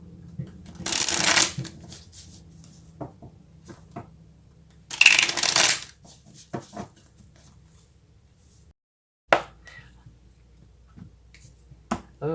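A deck of oracle cards is shuffled in two loud riffling bursts, followed by scattered soft taps and card handling. The sound is close and isolated.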